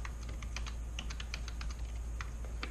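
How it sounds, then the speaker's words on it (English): Rapid clicking of keys on a computer keyboard as sample text is typed, irregular taps at close range that continue steadily against a quiet room hum. "I type some sample text."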